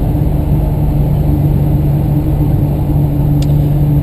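A modified 1990 Isuzu Trooper engine drones while driving, heard from inside as a loud, constant low rumble with a steady hum and road noise, unbroken and without talk.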